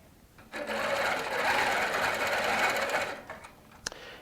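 A Baby Lock sewing machine with a couching foot stitches steadily across a quilt, a loud continuous whir running about two and a half seconds before stopping, followed by a few faint clicks.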